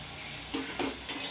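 Spice paste sizzles in oil in a pan as it is stirred for a Bengali eggplant and tengra fish curry, a close, steady hiss with a few short scraping swells from the stirring, and no voices.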